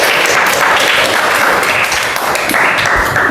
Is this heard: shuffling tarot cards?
no